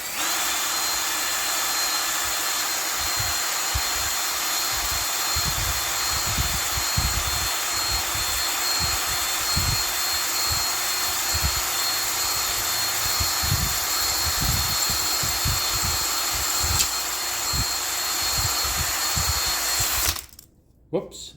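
A spinning cylinder hone grinds steadily inside a small-block Chevy engine block bore, a continuous drill-like whir with rough low rumbling surges, close and loud, then cutting off abruptly near the end.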